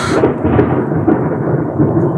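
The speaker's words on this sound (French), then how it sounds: "C'est l'orage." Loud, close thunder rumbles continuously during a storm around an abandoned building being explored, a deep heavy roll with brief swells and no voices over it.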